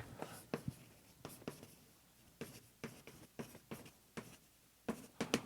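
Chalk or marker strokes on a board during a mathematics lecture, a run of separate tapping and scratching strokes at an uneven pace, close and fairly quiet with no talk.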